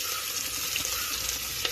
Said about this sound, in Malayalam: കരിയാത്ത രൂപത്തിൽ നല്ലവണ്ണം ഇളക്കി കൊടുക്കുക.